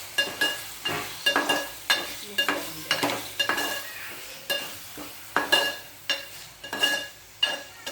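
Masala with liver fries in a pan under a low sizzle, while a spoon scrapes and clinks against the metal in a quick, repeated stirring rhythm close by.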